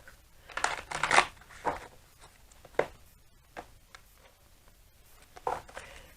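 Deck of cards being shuffled up close, a quiet run of irregular papery riffles and soft slaps, with a denser flurry early on followed by scattered lighter flicks.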